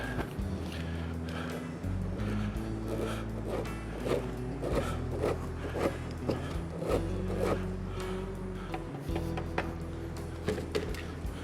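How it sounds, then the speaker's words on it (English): Butter being grated on a metal box grater, heard as repeated rough scraping strokes in an uneven rhythm, close and moderately loud, with no speech. "We're going to use a box grater, and we're going to grate our butter into it."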